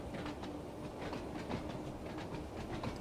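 Class 483 electric train running on the Isle of Wight line in Train Sim World 2, with a steady rolling rumble and rhythmic clickety-clack of wheels over rail joints, moderately quiet.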